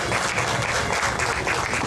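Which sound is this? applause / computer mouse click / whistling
applause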